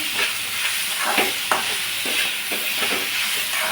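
Onions sauté with salt and asafoetida in a hot pan, a loud, steady hissing sizzle with regular scraping stir strokes roughly every half second, close up and without voices.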